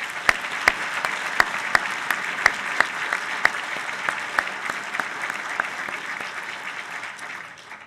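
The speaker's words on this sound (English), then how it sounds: "Let's give him another round of applause." An audience at a Naval War College evening event gives a round of applause, a full, even wash of clapping with a few distinct nearby claps, tapering off at the close.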